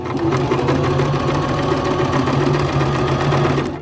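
A sewing machine stitches a scented fabric sachet in a steady, continuous whirring run, loud and close, with a faint mechanical knock underneath and no talking.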